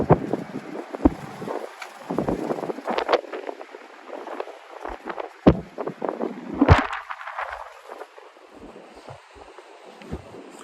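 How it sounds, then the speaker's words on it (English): Wind gusting outdoors at the New York Botanical Garden on a cold winter night, buffeting the microphone in irregular low rumbles and bursts, fairly close and moderately loud. "I have on my layers, but it is windy."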